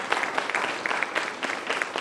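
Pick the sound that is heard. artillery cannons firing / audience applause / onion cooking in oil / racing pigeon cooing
audience applause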